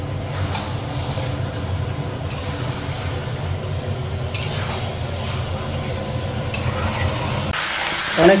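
Meat curry masala is sautéed in a pan with little oil in a home kitchen. A steady sizzle and the stirring of a utensil continue evenly over a low background hum, with faint voices.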